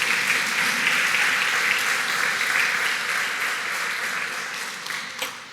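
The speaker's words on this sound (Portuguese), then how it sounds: "Aplauda o Senhor se você tiver liberdade." A church congregation applauds during a Brazilian Portuguese service, with dense sustained clapping from many hands that fills the room and slowly thins toward the end.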